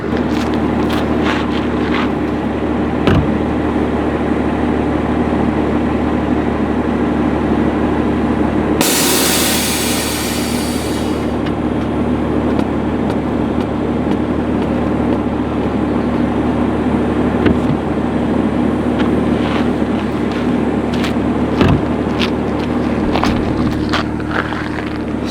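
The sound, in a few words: air suspension dropping Toyota Supra A90 to the ground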